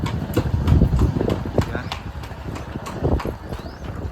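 A mare's hooves clip-clop in a steady rhythm along a village lane, fairly close, with people talking over them and some background rumble.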